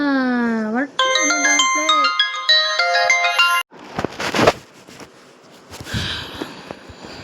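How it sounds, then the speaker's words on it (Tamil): A phone ringtone plays loudly and clearly, a melodic chiming pattern of bright tones, then cuts off abruptly, followed by rustling, handling noise and a sniff. "சாரி கைஸ், ஒரு ஃபோன் வந்துச்சு"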